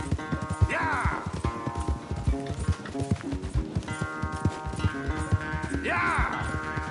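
A horse gallops in a video game race, its hooves drumming in a fast, steady clip-clop rhythm, loud and close, over game music with a brief whinny.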